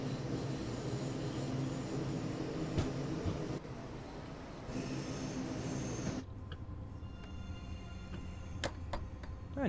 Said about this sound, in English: The rear of the train is slowly about to enter the platform now.